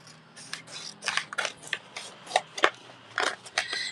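Scissors slice through thick adhesive foil in a series of short, crisp snips, close up and irregularly spaced, with no talking.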